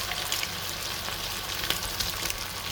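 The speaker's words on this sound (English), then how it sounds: "So just put these in the hot oil till they turn a golden brown" Salmon patties frying in hot oil give a steady, close, dense crackling sizzle that holds even from start to finish, with no voices.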